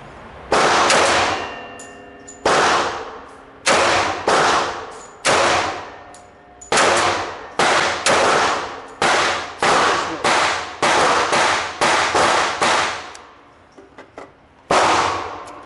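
A Thompson 1927A1 carbine fires at an indoor shooting range: about a dozen loud, sharp shots, mostly single with a few quick pairs, each ringing briefly before the next.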